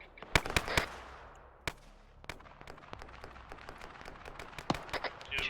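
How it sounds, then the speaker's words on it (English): Cannon fire and gunfire in an Arma 3 Iraq combat scenario, with sharp irregular shots and bursts, some loud and close, others distant and fainter, spread across the stretch without speech. "Cease fire with that big fucking cannon."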